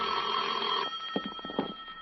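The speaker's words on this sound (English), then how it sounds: "At 10, my phone rang." A telephone rings as a sound effect in an old-time radio detective drama. One clear, bright ring burst cuts off abruptly, followed by a few soft clicks and handling taps.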